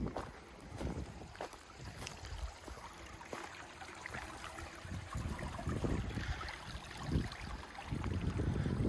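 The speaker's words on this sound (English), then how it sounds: "Oh, actually, here's another creek." A creek flows through the woods in Nottingham Park, Pennsylvania, giving a faint, steady wash of rushing water mixed with light wind, with no one speaking.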